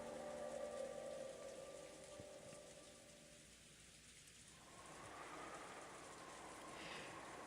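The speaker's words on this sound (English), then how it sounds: "the intrusive sound of rain that was creeping into the dining hall" Steady rain falling and pattering on surfaces around a dining hall, set in the Umineko visual novel; a continuous wash of rainfall, fairly loud, with faint tonal background music fading out midway and no voices.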